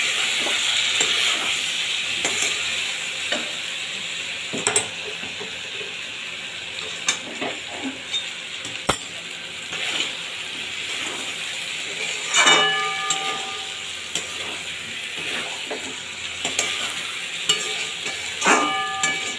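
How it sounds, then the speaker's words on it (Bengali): Cauliflower with shrimp sautéing in oil in a pan, a continuous bright sizzling hiss with intermittent scraping and clanks from stirring, close and fairly loud, no talking. "তেল ছাড়া পর্যন্ত আমি এটাকে কপিটাকে ভালোভাবে আবারও কষিয়ে নেব"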